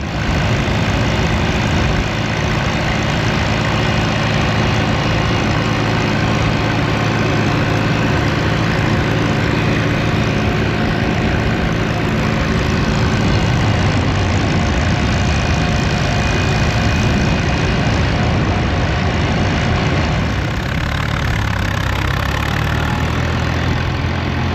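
A 1953 Allis Chalmers tractor engine idles steadily and loudly for the whole stretch, a constant low rumbling chug close by with no voices over it.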